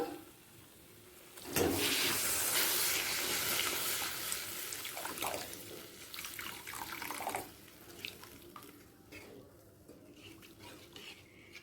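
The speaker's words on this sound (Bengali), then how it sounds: "এই সময় দিয়ে দিচ্ছি গরম জল" Hot water poured into a pan of black pepper katla fish curry cooked with poppy seed paste, a steady close splashing pour for several seconds, then quieter stirring and clinks of utensils.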